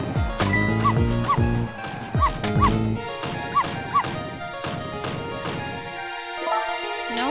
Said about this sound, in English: No, Missile, you're not supposed to bark.